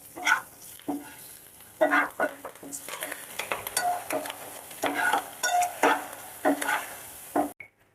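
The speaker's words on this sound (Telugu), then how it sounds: "ఇప్పుడు కరివేపాకు వేసేసుకుందాం." Curry leaves hit hot tempering oil with mustard seeds and cumin while ivy gourd fry is being made. Bursts of sizzling mix with a spatula scraping and clinking against the pan in an uneven rhythm.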